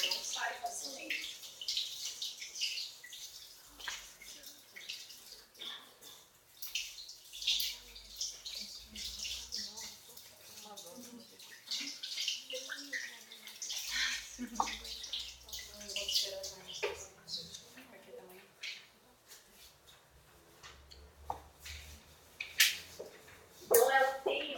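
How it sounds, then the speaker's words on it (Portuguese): Water runs steadily from a tap in a lab while a hand is rinsed, a continuous splashing hiss that carries through the whole scene, with a voice talking over it. "passada a água na mão"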